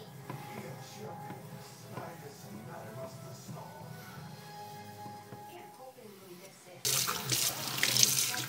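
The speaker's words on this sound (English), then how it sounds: "Rinse it off." Water runs quietly from a tap as a razor sharpening stone is rinsed, then the flow suddenly gushes louder and splashes near the end.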